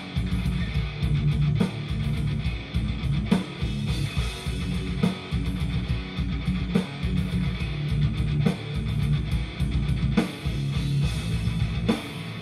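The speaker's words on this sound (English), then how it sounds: "I just followed that with the rhythm guitar, so it basically sounds like this now." Dense, driving rhythm guitar chugs locked to a punchy kick drum pattern, steady and loud throughout with brief stops and accents.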